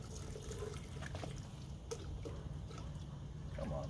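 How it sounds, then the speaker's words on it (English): Water poured into the spout of a cowboy coffee pot, a continuous soft trickling and splashing close by for a few seconds, no voices. "we're going to pour it right into the spout"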